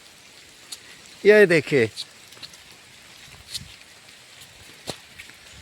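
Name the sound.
rain falling in a forest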